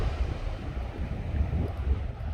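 Ocean waves wash steadily onto a fine sandy beach at Gyeongpo Beach, Gangneung, a continuous rumbling surf mixed with gusty wind buffeting the microphone.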